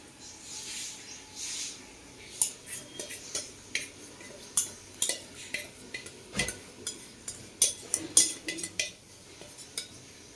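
Soaked dhokla batter going into an oil-greased vessel, heard as irregular close scrapes, taps and clinks of a utensil against the metal pot over about ten seconds, with faint background voices.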